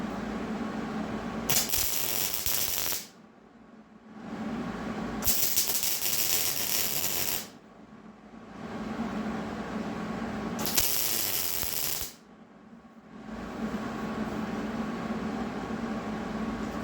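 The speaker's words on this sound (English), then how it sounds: "Let's weld our new tab." Three bursts of arc welding crackle and hiss as a new tab is welded onto a second-generation Ram truck, each lasting a few seconds, separated by short, quieter pauses, close and loud with no talking.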